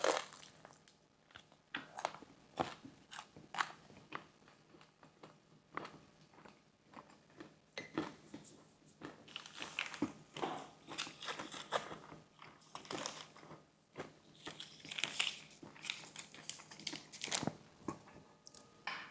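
Close-up chewing and crunching of a thin-crust Pizza Guys flatbread pizza, irregular bites and moist mastication sounds with occasional wrapper crinkle, quiet and continuous with no talking.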